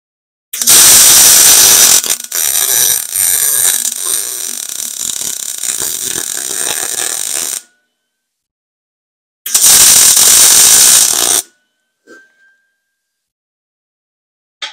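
Metal pieces being welded together in a fabrication shop, heard as a loud, steady crackling buzz that runs for about seven seconds, stops, then returns for a shorter two-second burst, followed by a couple of faint clicks.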